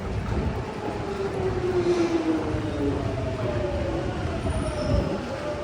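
A London Underground Jubilee line train rumbles steadily through a station, with a long, loud low roar and faint squealing tones from the wheels, and no talking over it.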